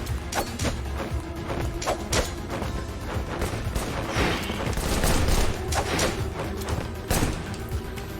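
Pistol shots ring out in a fight from the video game Wanted: Dead, sharp repeated cracks mixed with heavy thuds and impacts over a dense, loud combat backdrop.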